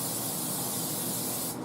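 Cooking spray hisses from an aerosol can onto a casserole dish sitting in a kitchen sink, one continuous close, loud spray burst lasting over a second before cutting off.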